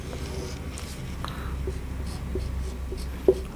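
Pen or pencil scratching out a fraction-multiplication answer by hand on paper during a class 7 maths lesson, a faint, steady scraping with a couple of light taps near the end.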